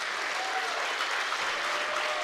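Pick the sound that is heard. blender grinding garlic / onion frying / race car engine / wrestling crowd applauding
wrestling crowd applauding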